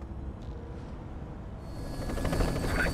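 A helicopter in the PS2 game Batman Begins gives off a steady, moderate rotor and engine drone. It grows louder and denser toward the end, and no one speaks over it.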